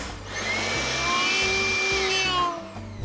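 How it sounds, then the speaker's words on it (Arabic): A hair dryer blows a ping pong ball up into the air with a loud, continuous whooshing roar and a high motor whine that holds steady, then cuts off near the end. "جبت سشوار وطيرت كرة البنج فعلا"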